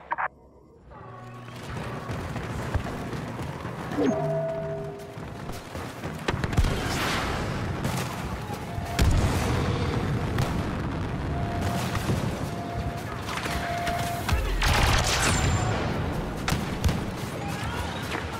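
In the Star Wars Battlefront II video game a fueling station is blown up: deep booms and explosion rumbles roll over a dense battle soundscape for many seconds, with scattered sharp impacts.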